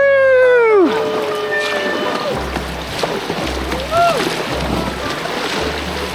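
A canoe on the Pine River running through rushing water and wave hills, with steady churning and splashing under wind on the mic, a whooping voice and scattered talk from the paddlers.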